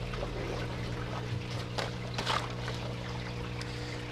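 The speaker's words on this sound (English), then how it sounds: "So the water flows from the clay bed through the rafts and then by gravity back into a sump tank down here" Water in an aquaponics system trickling from a clay bed through floating rafts and draining by gravity into a sump tank, a faint, steady splash and dribble over a constant pump hum.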